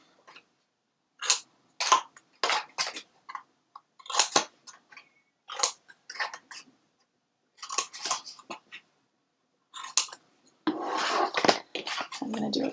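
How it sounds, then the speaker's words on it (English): Scissors snipping the corners out of chipboard and cardstock for a flower box album, a series of sharp separate cuts in irregular rhythm, close and fairly quiet, with a rustle of handling paper near the end. "Okay, so we're going to cut the corners out again."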